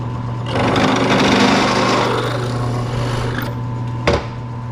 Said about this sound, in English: I'm gonna have to go drill one of these out